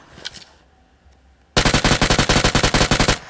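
Rapid automatic gunfire from a video game shootout erupts after a quiet opening, a loud sustained burst of evenly spaced shots filling the second half.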